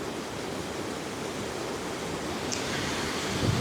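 A rushing waterfall in Glen Coe fills the clip with steady, dense broadband roar, fairly close and continuous, with no talk.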